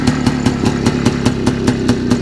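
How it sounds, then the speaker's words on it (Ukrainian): The engine of an IZh Planeta-3 motorcycle runs close and loud, with a steady, rhythmic single-cylinder chugging at a fast, even beat. "Ми зараз круто заведемо і будемо в шокі, як він працює."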